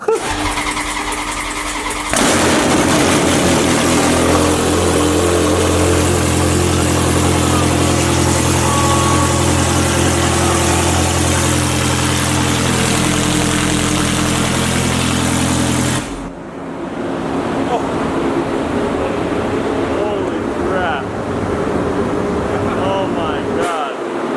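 A race car engine fires up with a loud roar and settles into a rough, throbbing idle, then drops in pitch to a lower rumble near the end.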